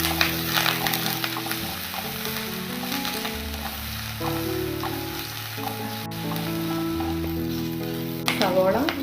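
Dried red chillies and curry leaves frying in oil for a Kerala-style red spinach stir fry, with a spoon stirring the pan; steady crackling sizzle under a loud tonal musical bed, with a sharp clink near the end.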